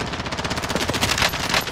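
Rapid automatic gunfire in Call of Duty Warzone, a loud, close, sustained burst of evenly spaced shots that rattles on without pause.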